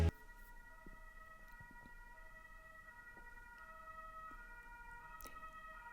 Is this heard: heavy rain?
no